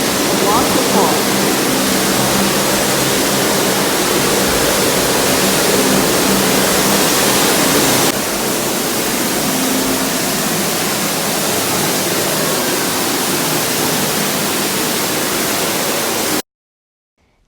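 Water pours down a waterfall installation at TeamLab Planets in Tokyo, a dense, loud, even rush of flowing water that fills the scene before cutting off abruptly at the end.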